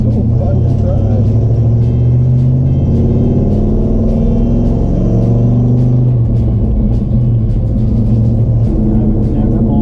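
A 1957 Chevrolet Bel-Air street machine with a manual transmission rumbles while driving, a loud, continuous low engine drone that shifts slightly in pitch partway through, with voices faintly over it.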